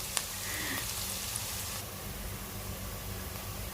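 French fries fry in oil in a pan, giving a steady, even sizzling hiss with a faint click early on, constant and fairly quiet, with no talk.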